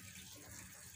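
A brief, faint, steady trickle of water is poured into a pot of bathua greens on a wood-fired stove.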